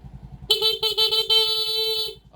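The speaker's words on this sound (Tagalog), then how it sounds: "busina." A Yamaha Raider J FI 115 motorcycle horn sounds up close in two loud blasts, a short honk followed by a longer sustained one, over the idling engine's low puttering.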